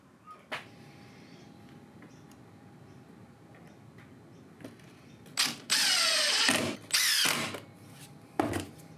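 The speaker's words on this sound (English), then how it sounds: "I screwed in the supports with hinges so they can fold out of the way" Cordless drill driving screws to fix hinged fold-out supports onto a DIY wooden table saw trolley in a small workshop: a few short bursts, then one longer whirring run near the end, loud and close, no talk.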